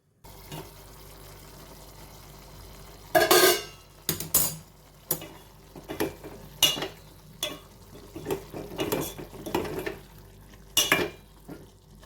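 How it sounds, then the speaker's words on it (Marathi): Vegetable curry being stirred in a pot with a spoon, giving scattered clinks and scrapes in irregular bursts, close and moderately loud over a quiet kitchen background, with no talking. "परत एकदा हलवते"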